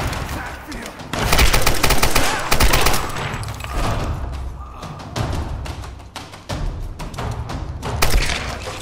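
Gunfire in Tomb Raider: Definitive Edition's Shanty Town, loud bursts of shots and thuds in quick rapid runs with pauses between volleys, someone talking over the shooting.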